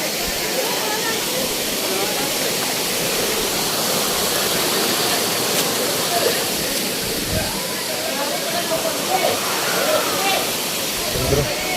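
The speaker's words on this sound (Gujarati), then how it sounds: "ઉપરથી જે પાણી કંઈક આ રીતનું પડી રહ્યું છે" Water pouring down at Najor Mata waterfall in hilly country, a broad, constant roar of falling water heard close and loud without letup, with faint voices now and then beneath it.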